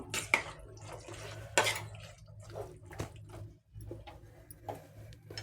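A spoon clinks and scrapes against a pot while boiled peas are stirred into a carrot and potato curry, with several sharp metallic knocks and soft wet squishes in an irregular rhythm.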